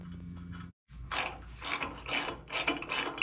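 Ratchet wrench torquing the intake manifold bolts on a VW Beetle: close, rapid clicking pawl strokes in several short bursts after a brief silence, heard alone.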